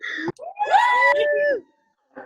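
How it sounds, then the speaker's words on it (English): Campers at a YMCA camp campfire scream together in a loud, sustained, rising group yell lasting about a second, then it cuts off before a brief fresh outburst. "Who's ready to scream?"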